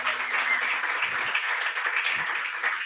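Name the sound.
audience applause for a musical performance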